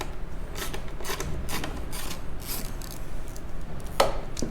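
Screws being backed out of the speaker grills on a 2020 Harley-Davidson with a T25 Torx socket, giving close scraping, ratcheting turns in short repeated bursts with a sharp click near the end.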